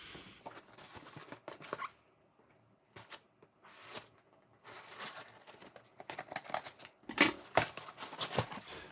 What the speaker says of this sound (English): I got my trusty scissors here to cut this open because there's quite a bit of tape on it